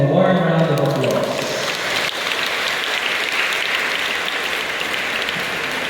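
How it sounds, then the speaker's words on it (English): Warm round of applause at a Lipa Carmel foundation anniversary prayer service, starting under fading speech and then carrying on as steady, full crowd clapping throughout. "Let us give them a warm round of applause."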